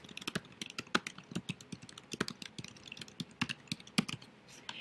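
Keys clatter on a computer keyboard in quick, uneven bursts of close, crisp taps, typing text into a new web page with no voices over it.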